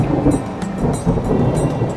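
Stormy weather with dense, steady rain noise and low rumbling thunder swells, loud and continuous across the whole moment with no voices.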